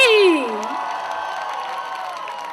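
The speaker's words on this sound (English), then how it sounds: "let's begin the evening with a big round of applause for Coke Studio 2014 at XIMB." Audience applause and cheering from a crowd at an evening Coke Studio 2014 event at XIMB, a steady wash of clapping and shouts that starts loud and settles, with a voice sweeping over it at the start.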